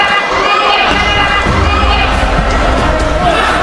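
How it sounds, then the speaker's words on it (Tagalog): A crowd at a boxing fight at the Bohol Cultural Center screams and roars loudly and without a break, a dense wall of shrill cheering. "And the crowd here at the Bohol Cultural Center, grabe yan tili."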